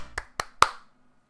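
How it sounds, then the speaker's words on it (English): Three sharp hand claps ring out in quick succession, close and fairly loud, each with a brief echo, before the sound falls to near silence. "I'll applaud myself a little bit."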